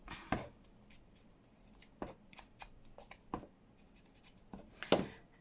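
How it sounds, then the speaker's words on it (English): Scissors cutting around a paper postcard piece for card decorating, with a few separate close snips and paper rustles spaced apart, quiet and with no talking. "let's cut around this a little bit and ink that up"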